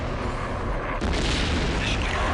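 A large explosion in the mech combat video game MechWarrior Online, a broad rumbling boom that swells around the middle and holds loud and sustained over continuous low noise.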